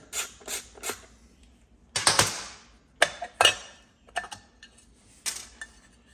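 A ratchet loosens the top bolts on a damaged Stihl MS440 chainsaw. Quick bursts of clicking come close and clear, separated by short pauses.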